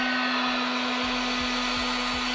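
A heat gun blows steadily across a car panel surface, a loud constant whirring hum with a strong tonal whine running unbroken throughout.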